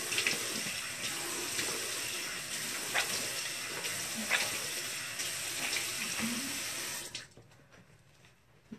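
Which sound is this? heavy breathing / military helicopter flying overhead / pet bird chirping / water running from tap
water running from tap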